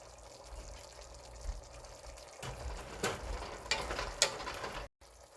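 Chopped vegetables for a vegetable dum biryani are tipped into a pan of sautéed onions, giving a faint hiss that rises into a soft sizzle, with a few light stirring scrapes and clinks nearby.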